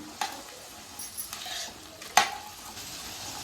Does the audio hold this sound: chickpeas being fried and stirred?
yes